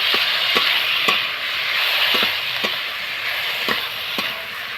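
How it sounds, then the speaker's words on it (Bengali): Cauliflower florets frying in a spiced masala for a tomato and cauliflower bharta, giving a steady loud sizzle with periodic scraping clicks from stirring, no voices. "এবারে আমি এর মধ্যে ফুলকপিগুলো ফুলকপিগুলো দিয়ে দিলাম দিয়ে একটুকু ভালো করে ভেজে"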